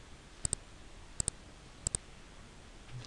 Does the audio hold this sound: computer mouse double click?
yes